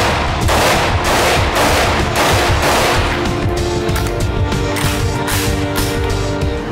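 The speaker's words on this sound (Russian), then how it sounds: "А сейчас вы увидите, как стреляет самый известный автомат в мире." The world's most famous Soviet-era automatic rifle fires loud, close, rapid bursts of shots. A dense volley opens the sequence, followed by a quicker staccato string and echoing reverberation.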